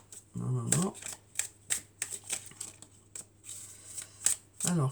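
Tarot cards being shuffled by hand, a close, quiet stream of irregular riffling and flicking with short pauses, a voice speaking briefly at the start and end.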